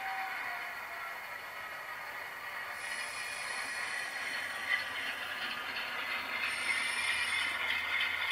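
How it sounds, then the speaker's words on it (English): A ScaleTrains Norfolk Southern GE C39-8 model locomotive runs along its track with a steady, smooth whir and hiss, a thin high tone appearing partway through, the running noise growing slightly louder toward the end. "one thing I've noticed is that the locomotive is in reverse. It actually goes forward."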